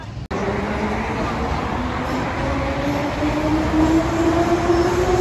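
A metro train at Darnytsia station in Kyiv rumbles close by, its electric motor whine climbing steadily in pitch as it gathers speed over a dense roar.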